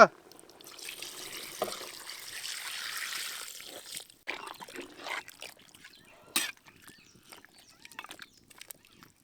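Water pours in a steady stream for a few seconds, then gives way to scattered splashes, drips and light handling noises nearby.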